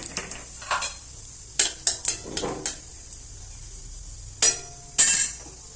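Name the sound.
tempering bay leaves and dried red chillies in a pan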